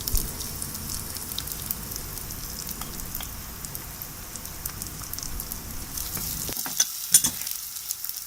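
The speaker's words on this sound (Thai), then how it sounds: "พริกกับกระเทียมตำให้เข้ากันแล้วก็ลงไปผัด" Pounded chili and garlic stir-fry in a pan with a continuous hissing sizzle, broken by a few scraping stirs and a sharper clatter near the end.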